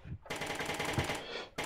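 A machine gun fires in the Brick Rigs video game, a loud continuous burst that cuts off briefly and then resumes, with no talking.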